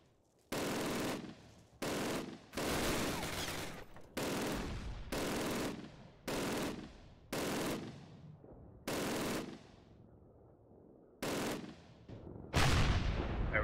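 Bursts of WWII-era weapon fire in Call of Duty (2003) come in about nine separate volleys, each loud and sharp with a short decaying tail and quiet gaps between them.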